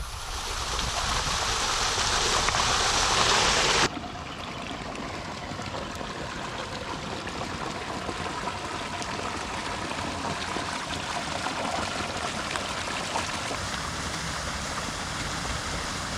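A flooded homestead pond spilling out through its overflow gives a continuous rushing, splashing flow of water, loud and close at first, then steady and softer.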